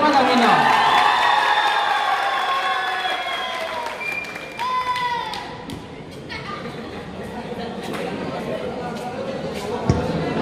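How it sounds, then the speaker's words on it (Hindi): Crowd applause and cheering at a pigeon-flying tournament award ceremony in Badnera, Amravati, loud at first, with whoops and shouts over the clapping, then a looser mix of claps and chatter. "भाई तालियों में कमी ना।"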